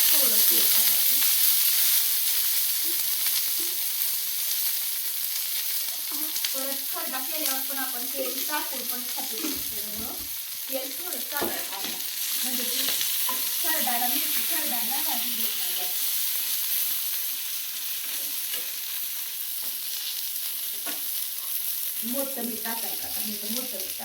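Green chilies and garlic frying in a little oil, a soft steady sizzle under intermittent close talking.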